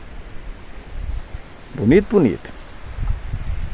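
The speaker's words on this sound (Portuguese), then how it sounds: "Tá trovejando, ventando bastante." Strong wind blows outdoors as a thunderstorm and rain approach, a constant broad rushing roar with gusts, while someone speaks briefly over it.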